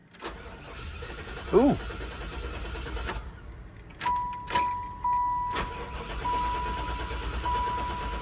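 A Buick Roadmaster wagon with a weakening battery cranks and fails to start, several separate grinding bursts from the starter with a steady dashboard chime between them and a brief jangle of keys, close, with a short exclamation.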